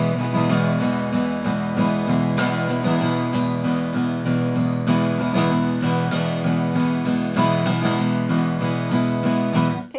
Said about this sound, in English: You hear a lot of darkness to my guitar, which tells you it's a lot of down strums.